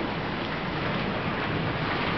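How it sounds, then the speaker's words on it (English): Hail falls in Scottsdale, Arizona as a dense, steady outdoor hiss and patter with a rough, noisy wash that carries on without a break, with no voices heard. "I can't believe it's hailing!"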